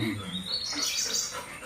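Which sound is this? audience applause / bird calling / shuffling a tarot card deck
bird calling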